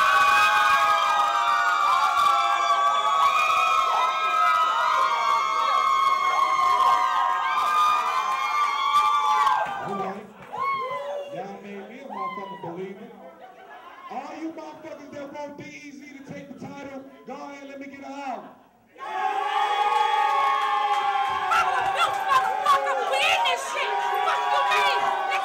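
A crowd at a rap battle event cheers and hollers loudly. Dense, sustained shouting fills the opening seconds, dips into a quieter stretch with scattered voices and an amplified announcer, then surges back into loud, roaring cheers.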